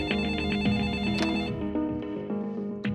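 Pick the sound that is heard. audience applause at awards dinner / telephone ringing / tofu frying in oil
telephone ringing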